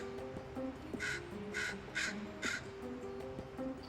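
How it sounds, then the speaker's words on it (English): A young crow gives a tentative scolding call, a string of four harsh caws at a steady pace, fairly close, with other faint birdsong and low ambient noise in the background. "just the tentative scold of one young crow"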